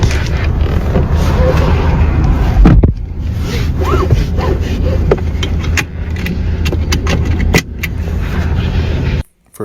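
Someone climbs back into a car after dropping off a package, with loud close rustling, rubbing and shuffling, a few sharp clicks and knocks, and a final thump near the end.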